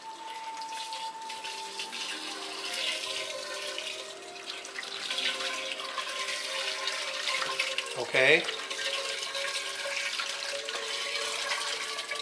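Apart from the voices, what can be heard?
pouring water into water softener tank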